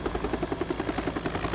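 A helicopter in the video game Tekken 6 gives a loud, steady rotor thump, a fast, even beat of blade chops held close and alone throughout.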